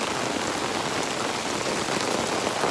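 Rain patters steadily on an 11 by 19 tarp overhead, a dense, even hiss of countless drops close by with no pauses or voices.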